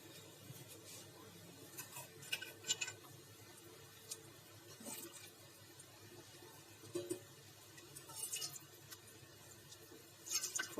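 Soft splashing and trickling water with scattered light clinks, faint and intermittent, as water is swirled in a blender jar to rinse out tomato puree and poured out.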